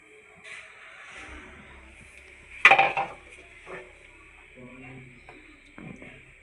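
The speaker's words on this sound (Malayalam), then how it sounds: "റവ കുറേശ്ശായിട്ട് ഇളക്കി കൊടുക്കാം" Wheat rava gets stirred into simmering water in a pan on low gas for upma, giving soft scrapes and taps of a spoon against the pan, one sharp metallic clank, and a voice talking quietly throughout.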